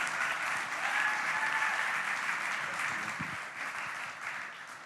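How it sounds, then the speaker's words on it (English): Audience clapping for the ionRoad and Porsche sustainability award at a Startup Autobahn event, a steady, fairly soft wash of applause sounding a little distant and fading gently toward the end. "So a big round of applause for ionRoad and Porsche."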